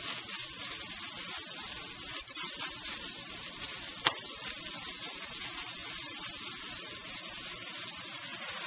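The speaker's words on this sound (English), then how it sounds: "just let it simmer for about another minute or more before you add some heavy cream" A lobster chowder base simmers in a pot with a little white vinegar stirred in, giving a steady, soft hiss and sizzle throughout with one brief sharp tick midway.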